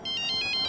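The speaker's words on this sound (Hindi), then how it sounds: "सर गोविंद खबरी का फोन" A phone rings with a quick electronic ringtone, short repeated bright chirps in a steady pulsing rhythm, clear and close.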